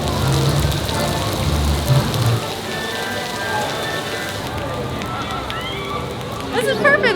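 Heavy rain pouring steadily onto a surface at a highland resort, a dense continuous hiss with brief voices and movement under it.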